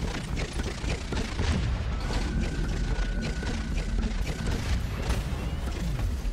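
Mechanical clanks, booms and rattling bursts as a turret is destroyed mid-match in the video game Battleborn, dense and continuous game combat noise without talk.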